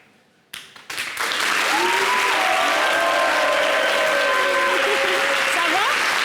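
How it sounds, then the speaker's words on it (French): A television studio audience breaks into applause after a short quiet lead-in, swelling quickly into a loud, steady, sustained roar of clapping, with voices audible faintly underneath. "Il faut faire les applaudissements là."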